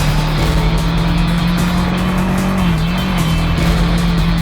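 A Suzuki SV650 motorcycle engine drones at steady revs while riding, a loud, continuous close hum with a slight dip in pitch midway and no voices.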